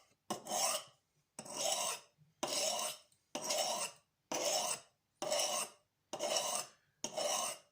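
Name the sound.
kitchen knife being sharpened on a Norton India sharpening stone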